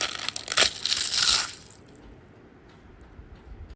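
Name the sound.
crunching crispy fried papad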